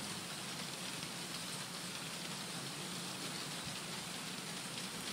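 Steady rain pours down as an even, hissing wash of noise, holding constant and faint throughout with no voices over it.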